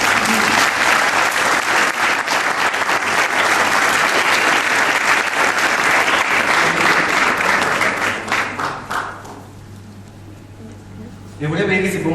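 Loud, sustained applause from a large crowd, dense and steady, fading out toward the end before a brief burst of noise returns.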